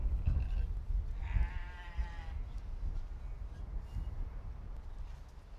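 Lamb at a livestock show giving one clear bleat over steady background rumble and crowd noise, with fainter animal calls around it.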